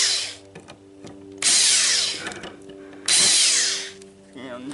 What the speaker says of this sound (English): I'm using a huge impact wrench here because my other one has a dead battery